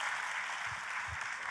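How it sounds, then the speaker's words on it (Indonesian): A church congregation claps together during a worship service, a dense, steady wash of applause at moderate volume with a couple of faint low thumps underneath. "Tepuk tangannya pula yang paling meriah buat Tuhan kita."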